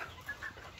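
Chickens and a couple of roosters on a poultry farm make faint, brief clucks, with two short calls standing out over low background noise.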